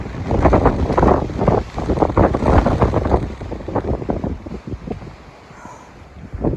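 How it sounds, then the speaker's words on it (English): Strong gusts on an exposed mountain ridge batter the microphone with loud, rumbling wind buffeting in surging bursts that ease toward the end. "I apologize for the wind."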